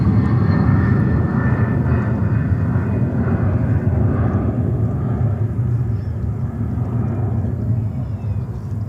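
A jet airliner departing JFK Airport in New York roars on takeoff, a loud, steady broadband engine rumble that slowly fades over several seconds with no voices.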